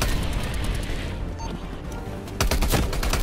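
Sustained full-auto assault rifle fire in Call of Duty Cold War, a dense rapid rattle of shots that dips slightly mid-burst and then resumes louder with sharper, punchier reports.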